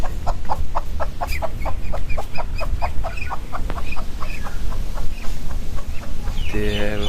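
Agitated chickens cluck in quick, repeated bursts throughout, close and loud over a busy outdoor background, with a brief rising squawk near the end.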